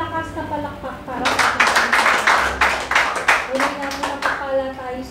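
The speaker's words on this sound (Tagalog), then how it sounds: "Isa nga pong malakas na palakpak para" Church congregation giving a round of applause after a sermon: a burst of clapping rises after about a second, stays loud for around three seconds, then thins into scattered claps, with voices heard before and after.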